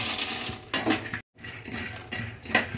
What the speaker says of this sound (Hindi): सबसे पहले मैं इसमें मूँगफली डालूंगी।